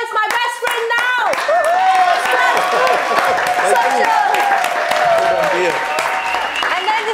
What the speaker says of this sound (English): Clap for my friend